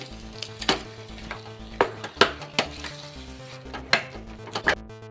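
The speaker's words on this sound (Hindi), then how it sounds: "अब हम इसको अच्छे से मिक्स कर लेंगे" A spatula stirs a filling of mashed potato, tomato ketchup and red chilli in a sizzling pan, with sharp, repeated scraping strokes at an uneven rhythm over a steady frying hiss.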